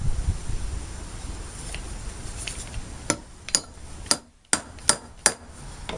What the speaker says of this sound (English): So I've got a hammer to start this